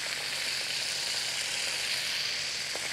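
Ketchup sizzles in melted butter in a pan, a close and steady hiss with no talking over it, as sauce for a burger is cooked.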